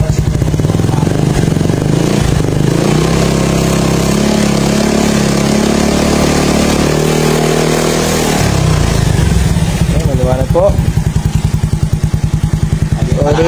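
A 2020 Yamaha Mio Soulty scooter engine runs steadily up close, its low putter continuing under brief speech, with a few quick throttle blips near the end.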